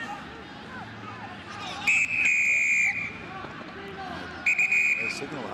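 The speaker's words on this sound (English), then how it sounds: "we heard the double whistle" A referee blows two sharp, shrill whistle blasts at a rugby sevens match in San Diego, Uruguay against Japan, a short pair heard twice above the crowd murmur of a stadium.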